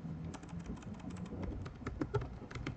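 Keystrokes on a computer keyboard while a terminal command is entered, a quiet, steady patter of individual clicks with a few slightly louder taps, heard on their own with no talking.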